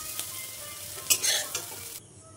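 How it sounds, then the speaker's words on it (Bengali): Soybean chunks fry in oil in a pan over low heat, a quiet close sizzle with a few quick stirring scrapes near the middle, then the sound drops off abruptly at the end. "একটু বেশি সময় নিয়ে অল্প আঁচে এটাকে কষিয়ে কষিয়ে ভাজতে হবে।"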